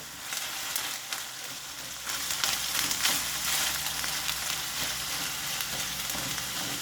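Thai green curry paste frying hard in a pan, a steady, loud, close sizzle with dense spattering crackle that swells briefly after the second mark and carries on without pause.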